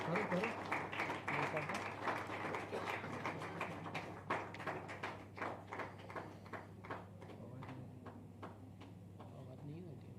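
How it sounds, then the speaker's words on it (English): Scattered audience clapping greets the launch of a Science Carnival souvenir booklet at a National Science Day valedictory session, with sharp claps over a steady hum and some background talk, thinning out toward the end. "Please give a huge round of applause."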